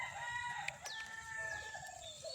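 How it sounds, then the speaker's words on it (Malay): Several roosters and chickens crow and cluck, overlapping calls answering one another at moderate distance, faint against a low background hum. "dengar bunyi ayam sahut menyaut"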